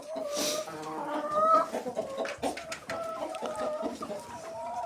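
Chickens cluck steadily and continuously, several birds close by, with a busy outdoor farmyard background.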